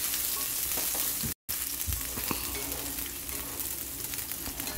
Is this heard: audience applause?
no